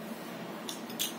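A metal spoon handled near a table gives two faint, light clinks late in the moment, against quiet room hush.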